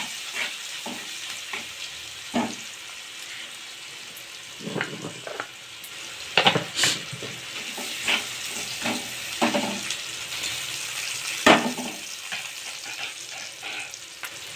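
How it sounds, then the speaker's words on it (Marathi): Garlic and green chillies fry in a pan with salt, a soft continuous sizzle punctuated by sharper spatula scrapes and clinks against the metal, close up and with no talking. "आता थोडं फ्राय करून घेऊया लसूण मिरचीला।"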